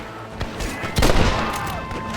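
Bursts of gunfire in the Red Dead Redemption Western game, loud rapid shots cracking close in a dense volley during a fight, with yelling voices mixed in.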